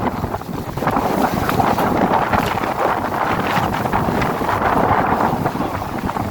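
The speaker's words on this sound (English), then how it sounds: "waves crashing and wind howling" Sea waves crash onto a beach under strong wind that buffets the microphone, a loud, continuous roar with surging swells and no voices.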